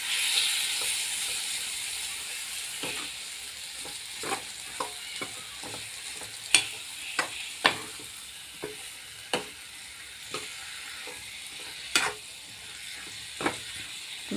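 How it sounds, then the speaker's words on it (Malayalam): Hot mango pieces are stirred in a pan for mango pickle, a soft steady sizzle punctuated by spaced, distinct spoon knocks and scrapes against the metal. "ഇട്ട് കൊടുത്ത് നല്ലവണ്ണം ഒന്ന് ഇളക്കി കൊടുക്കണം."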